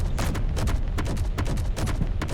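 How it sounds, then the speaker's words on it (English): A rapid volley of hand-mounted mech cannons firing in a VR game, a dense string of loud, evenly spaced blasts over about two seconds with no talking. "these are the cannons that are attached to each hand"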